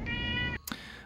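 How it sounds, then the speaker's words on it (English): A house cat at a door gives one long, steady, high-pitched meow, then a brief chirping follow-up sound, close by and clear with no one speaking. "My cat's at the door meowing."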